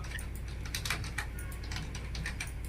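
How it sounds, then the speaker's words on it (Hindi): Keys on a computer keyboard click in a quick, irregular run of taps, close and clear over a low steady hum. "मैं अब यहाँ पे जो भी टाइप करूंगा तो मैं सेम माउस और सेम कीबोर्ड का यूज करूंगा।"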